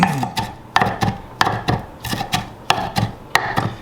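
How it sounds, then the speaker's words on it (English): A knife gives a whole head of cilantro a rough chop, with about seven crisp, evenly spaced chops close by and nothing else behind them. "I'm just gonna give it a rough chop."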